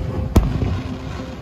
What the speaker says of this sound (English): But this is the night of the huge firework display.